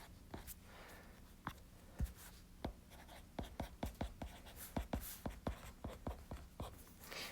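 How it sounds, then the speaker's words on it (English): A pen scratches across paper in short, separate strokes with quiet gaps, close and steady, as someone works through a handwritten maths homework problem with no talking. "Let me write this in blue."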